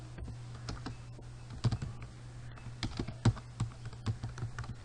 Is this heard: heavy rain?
no